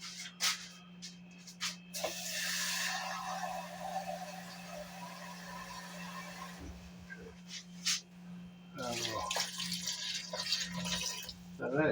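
Water is poured into a pot where pork and peppers are cooking, making a steady close splashing and trickling with a few sharper clinks over a constant low hum.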